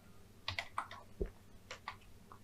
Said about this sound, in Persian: الان اگر که اینجا تایپ بکنم